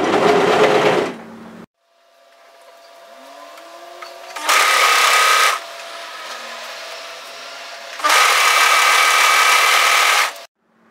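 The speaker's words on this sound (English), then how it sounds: "we're going to overlock from that folded edge through to the outside of the shoulder" An overlocker sews the shoulder seam of a knitted sweater in three loud, close bursts of fast mechanical whirring, with quiet low humming pauses between them.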